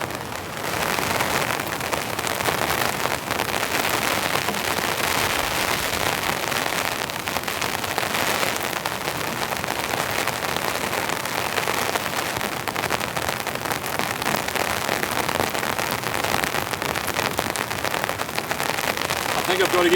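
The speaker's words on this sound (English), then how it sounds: "we'll wait out this rainstorm" Heavy rain pounding steadily on a storm-proof hot tent at a campsite, a loud, dense, continuous patter that fills the whole stretch without letting up, with a voice speaking faintly now and then.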